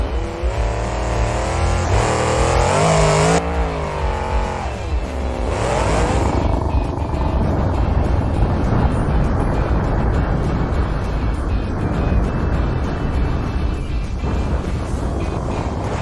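A cartoon monster truck engine roars and revs hard, then heavy crunching impacts as it lands on cars after a jump, with the loud engine rumble continuing afterward.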